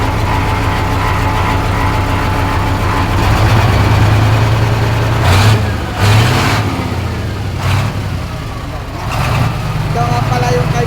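An engine runs steadily after its starter was repaired, a loud nearby idle with a few sharp revs and knocks partway through, while people talk over it.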